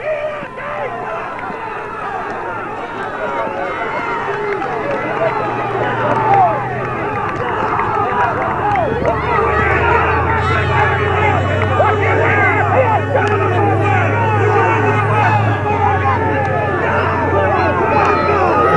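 Crowd at a 1987 baseball game: a steady, loud wash of massed voices and babble that swells slightly midway, with a low drone underneath throughout.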